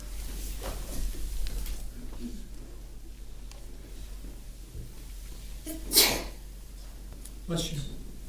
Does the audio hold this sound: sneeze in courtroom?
yes